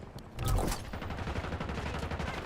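Automatic gunfire in Call of Duty: Warzone on the Verdansk map, a heavy burst opening into rapid, continuous rattling shots that stay loud and dense throughout.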